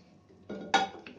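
A spoon stirs dal maharani in a cooking pot, making a brief scrape and a couple of sharp metallic clinks close by.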